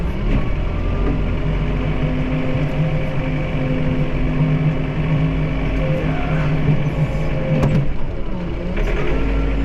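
A John Deere 4052R tractor with a front end loader grades a gravel lot, its diesel engine droning steadily and loud at close range with low tonal hum and faint scraping.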